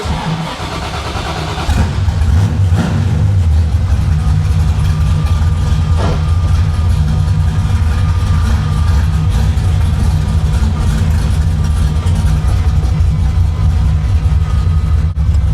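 A carbureted car engine on a test drive after repairs runs loud and steady, swelling into a sustained strong drone as the throttle opens toward the back barrels, with a quieter idle at the very start.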